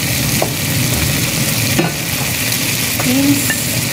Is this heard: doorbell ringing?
no